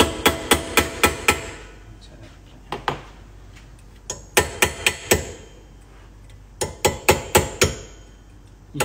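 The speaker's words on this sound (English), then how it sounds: "So basically I'll chisel an action." Hammer blows on a chisel cutting a Purdey gun action, sharp metallic taps struck in quick bursts of several blows separated by short pauses, close and crisp in a quiet workshop.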